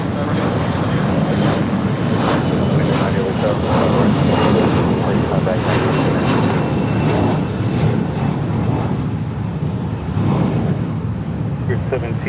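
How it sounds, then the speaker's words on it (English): A China Airlines Boeing 777 arriving from Taipei at Los Angeles International Airport produces a steady, loud broadband jet roar mixed with gusty wind noise on the microphone. "There's the China Airlines 777 in from Taipei."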